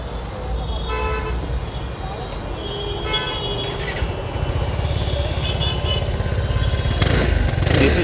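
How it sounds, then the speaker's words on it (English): Small scooter engine with a rear disc brake and twin rear shocks, firing up and settling into a steady, close putter, with a few higher blips near the end. "now I'm going to fire it up and show you how it sounds."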